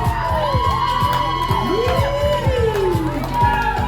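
Audience at a youth fashion show in South Auckland, New Zealand, cheers, whoops and yells steadily throughout, with children's shouts mixed in and an emcee talking over the noise.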